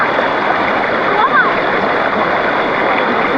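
Steady rushing and splashing water from a forest stream where a family is bathing, a continuous loud wash with no clear breaks.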